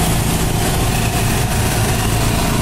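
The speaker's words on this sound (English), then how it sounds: "Folks, I've got the motorhome running. I've got the generator running." A 2006 Gulfstream B Touring Cruiser Class B+ motorhome engine idles alongside its running Onan generator, a steady, loud, close low rumble and hum with no change in pace and no voices.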